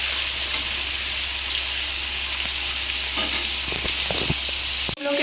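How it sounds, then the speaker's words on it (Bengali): Pieces of potol (pointed gourd) and potato fry in hot oil in a kadai, giving a loud, steady sizzle with a few stirring clinks near the end and a brief clatter at the close. "কড়াইতে কিন্তু আমি পটলের আলু ভাজতে দিয়ে দিয়েছি।"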